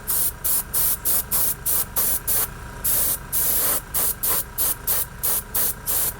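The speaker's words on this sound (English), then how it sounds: "So we've got our first kind of mist coat down, and we'll go back over it." Short rhythmic bursts of aerosol spray as a light mist coat of paint goes on, each hiss roughly a quarter second, repeated in quick succession with brief gaps and one longer burst, close and alone.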